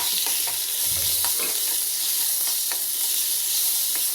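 Garlic, black pepper and asafoetida frying in a little oil for gooseberry rasam produce a constant bright sizzle, with a low bump and occasional soft stirring taps.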